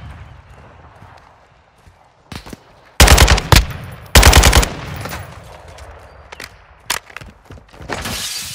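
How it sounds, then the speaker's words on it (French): Bursts of rapid automatic gunfire from the video game Call of Duty Modern Warfare II, loud and close, with two long volleys and scattered single shots, over low background game sounds. "Je me fais tirer dessus."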